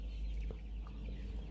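Kaveri chickens at a poultry farm give soft, scattered clucks over a steady low hum, a few short calls rising briefly from a quiet shed background.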